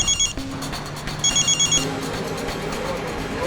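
A telephone rings in repeated electronic trilling bursts, two rings separated by a pause, loud and close over a busy room background with no clear speech.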